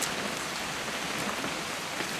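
Steady rain falls in the video game What Remains of Edith Finch, a dense, even hiss of drops on surfaces with no pauses, loud and enveloping.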